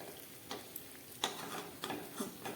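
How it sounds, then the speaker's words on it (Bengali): Malpua batter fries gently in oil over a low gas flame for a palm-sugar malpua recipe, with a soft steady sizzle broken by a few faint crackles and spoon taps at irregular moments. "একদম গ্যাস কমিয়ে ভাজা করলাম"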